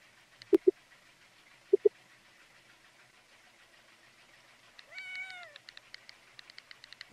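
A cat in the farming video game Coral Island gives one short, clear meow after a few sharp clicks, then a quiet stretch, with further soft game clicks trailing after.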